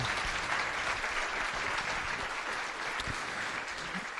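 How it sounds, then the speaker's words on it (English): Steady, dense applause from an audience at a summit keynote on data for a cleaner planet, holding at an even level for the whole stretch with no talk over it. "Well, first we should have a big round of applause for Pete Ceglinski."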